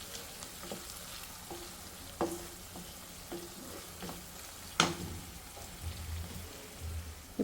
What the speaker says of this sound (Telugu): ఇప్పుడైతే ఆనియన్ అయితే ఇదిగోండి రెడిష్ కలర్గా వేగిపోయింది కదా